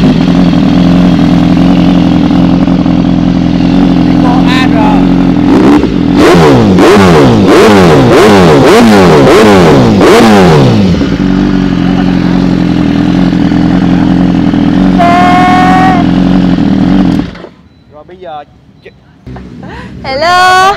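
A BMW S1000RR superbike with an aftermarket exhaust revs hard in a rapid series of loud, rising and falling blips, loud and close, then the engine cuts off near the end; people chat in the background.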